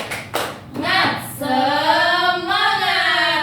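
A classroom performs a rhythmic spirit clap: a few sharp group claps at the start, then the children chant together in long, sustained voiced tones that dominate the rest.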